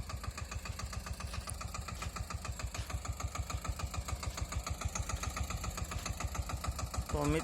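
A small Massey Ferguson 5118 18 hp tractor engine chugs steadily at idle, a fast regular thumping pulse that holds throughout, close by and fairly loud.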